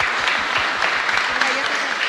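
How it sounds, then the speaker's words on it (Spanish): A church congregation at a Mass in the Capilla Caacupemí chapel, Luque, breaks into loud, dense applause, a brief continuous burst of many hands clapping with faint voices mixed in. "Fuerte aplauso entonces"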